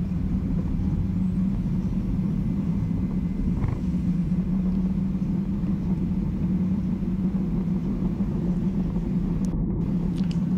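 A truck on a mountain road heard from the vehicle behind it, a steady loud low engine rumble and drone continuing without break throughout, no voices present.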